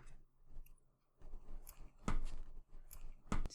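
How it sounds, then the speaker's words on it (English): Scissors snip through crochet yarn after finishing a pair of baby booties, giving a few faint, close, soft cuts and clicks over a quiet background. "cut my yarn"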